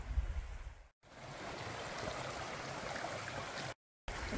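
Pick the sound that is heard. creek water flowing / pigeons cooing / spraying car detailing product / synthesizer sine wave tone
creek water flowing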